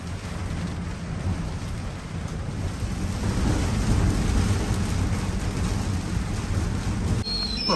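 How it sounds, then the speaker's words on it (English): Wind and rain in a southeast gale aboard a catamaran, a steady roar of rain and gusts that builds slightly toward the middle and holds loud to the end, with no talking. "It's still windy and raining."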